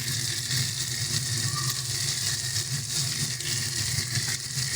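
Ginger paste goes into a pan of frying raw sweet pumpkin and sizzles steadily, a loud, continuous hiss of hot oil with faint stirring, close by and with no talk over it.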